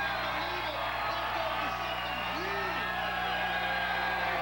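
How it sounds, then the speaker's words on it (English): Crowd cheering and whooping at the 1997 X Games motocross event in San Diego, a steady roar of spectators with scattered shouts rising out of it, heard under a constant hum. "The crowd is stoked for Jason Davies."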